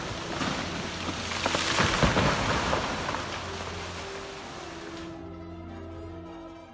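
Heavy rainfall with strong wind in a storm, a loud roaring wash of rain and gusts with low rumbling that swells and then eases into a softer, steadier rush.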